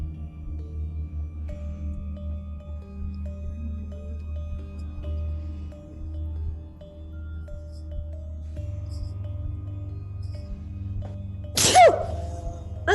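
One sharp, loud sneeze bursts out near the end during a quiet stretch of a tabletop role-playing session, after a long low hum with little else happening.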